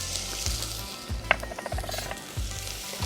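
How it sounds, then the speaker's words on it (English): Shallots sizzle steadily in hot oil in a pan, a continuous close frying hiss with a few light scrapes and clicks of stirring, no talking. "So what you're going to do is you're going to put your shallots in there. Already got my oil going."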